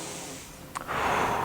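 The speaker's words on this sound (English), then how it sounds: "I'm breathing in through my nose" A person takes a sharp, audible breath in through the nose while leaning into a shoulder-height stretch for bicep tendonitis; one quick sniff stands out against quiet, followed by louder, sustained airy breathing.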